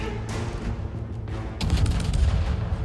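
Naval artillery booms in the World of Warships video game, with heavy battleship-style gunfire layered over a steady rumble of battle noise. The salvo swells louder in the second half.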